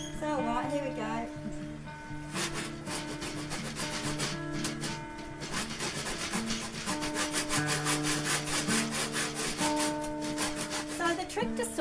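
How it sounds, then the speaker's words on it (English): A hand saw cuts wood for a garage door screen in rhythmic back-and-forth strokes, a raspy close scraping that speeds up and holds under steady tonal background music. "So the trick to sawing is don't push or push down. Just basically go backwards and forwards and let it do its own thing."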